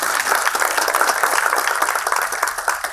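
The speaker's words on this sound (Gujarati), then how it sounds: "એમને પણ આપણે તાળીઓથી આવકારીએ." An audience at a formal gathering claps steadily to welcome a guest, producing a dense, even wash of applause throughout.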